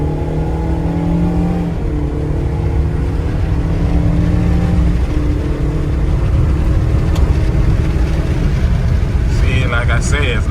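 A 2012 Scion iQ accelerates in sport mode, its small engine droning and rising through the gears inside the cabin, with someone talking over the steady engine and road noise.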